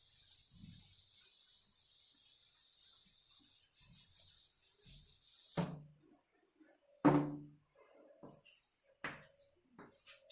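Someone erases writing from a board during a physics lesson: several seconds of steady soft rubbing, then a few sharp knocks and taps, quiet and close, with no speech.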